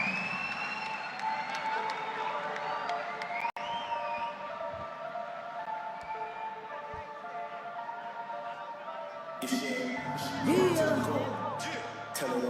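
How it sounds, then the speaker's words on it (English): Spectators at a Lethwei fight in Myanmar between Joseph Lasiri and Josh Tonna cheer for the Australian fighter, a continuous crowd roar under commentator talk that swells near the end. "The crowd giving the Aussies support here in Myanmar."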